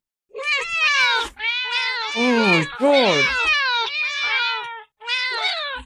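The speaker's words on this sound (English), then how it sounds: "You look behind you only to see dozens of cats standing there, looking at you." A crowd of cats meows close by in drawn-out, overlapping wails, almost without pause, and a person briefly exclaims among them.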